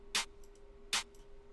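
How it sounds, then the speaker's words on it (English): Two crisp snare hits spaced under a second apart, each with a short bright rattle and faint echo, alone over quiet hum. "and then the snare sound that I used."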